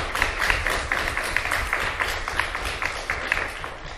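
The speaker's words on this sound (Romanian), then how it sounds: "haideți să o aplaudăm că merită." A hall audience applauds Aurelia Grosu at the launch of a national education project. Dense, loud clapping continues throughout with a faint rhythmic pulse and no voices.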